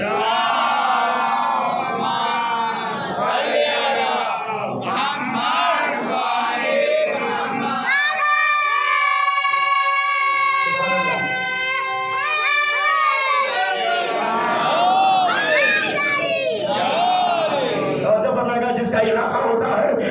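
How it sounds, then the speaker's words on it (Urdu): A large crowd at a religious majlis gathering recites salawat in unison, a loud, sustained chorus of many voices chanting together with rising and falling phrases. "صلوات پڑھے محمد و آل محمد پر"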